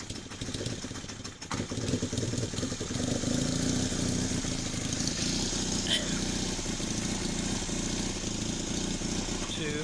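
A Honda CB350 motorcycle engine idles after a carburetor rebuild, a steady close putter that gets louder and settles into a faster idle after a couple of seconds, with someone talking over it.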